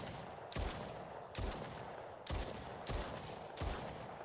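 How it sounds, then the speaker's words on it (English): Pistol fire in an Unreal Engine 5 COD Zombies game, four sharp shots spaced about a second apart, each a loud broadband crack with a short decaying tail over low background noise. "So for the pistol, you can see the pistol has a lot more kick."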